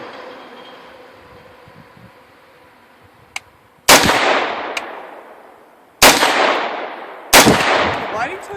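Three sharp AR-15 rifle shots crack out loudly at an outdoor skeet range, spaced a couple of seconds apart, each with a long echoing decay, after a quiet stretch of faint ambient noise.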